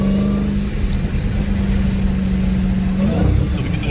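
Dodge Hellcat on Mickey Thompson tires pulling hard in a loud close run, a steady engine drone that climbs in pitch near the end, with faint talk underneath.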